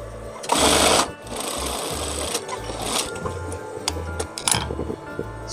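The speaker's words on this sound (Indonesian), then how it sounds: "Lalu kita jahit di bagian sampingnya" Sewing machine stitching the side seam of a dress, loud close motor whir in several bursts of varying length separated by short pauses and handling noise.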